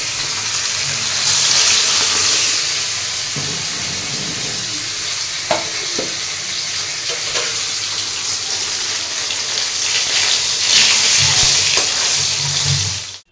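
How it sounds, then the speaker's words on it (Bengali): Fish, rohu by the speaker's mention, frying in oil in a home kitchen pan, a steady loud sizzle throughout with a few clinks of stirring and a brief running-water swell near the end. "চলো ভাজাটা বসিয়ে দিয়ে নিই"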